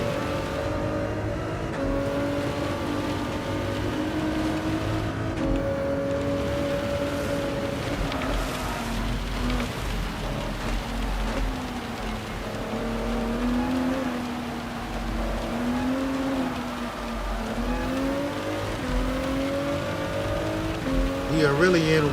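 Race cars drift through rain in a racing video game, their engines droning and whining in shifting pitch over a constant wet spray hiss for the full length.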